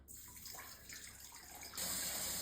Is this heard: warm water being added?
yes